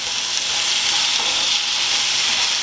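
Mushrooms and onion sizzle in a very hot pan for a creamy mushroom chicken, a dense continuous hiss of frying heard close and loud throughout, with no voices.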